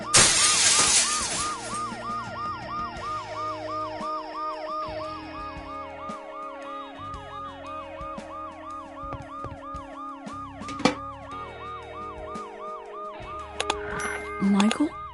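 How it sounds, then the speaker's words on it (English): An ambulance siren wails in the video game Dead Synchronicity, a loud, close, rapidly oscillating two-tone warble repeating steadily, with a brief glass-like crash near the end. "The noise the ambulance makes will cover the sound of the glass breaking."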